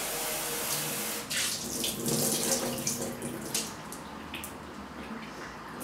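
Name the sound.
tap water rinsing soaked legumes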